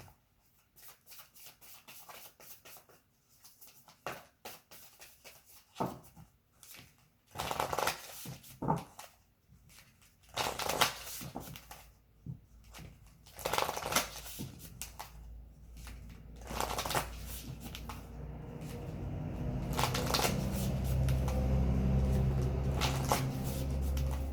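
Oracle and tarot cards shuffled by hand in uneven bursts of riffling and sliding, with quiet gaps between, then a denser, steadier stretch of card handling near the end.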